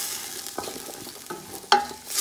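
Green, yellow and red peppers are stirred in a frying pan for turkey fried rice, with a soft sizzle beneath. Several distinct scraping strokes are close up, and the last is the sharpest.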